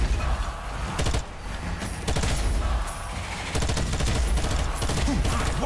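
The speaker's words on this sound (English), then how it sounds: "What superb shooting!" Gunfire in the Strange Brigade video game, loud and continuous, with rapid volleys of shots and sharp cracks layered over mechanical clatter, running almost without pause throughout.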